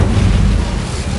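Incendio fire spell from Hogwarts Legacy, a loud, dense burst of roaring flame with heavy low rumble that holds steady for about a second without fading.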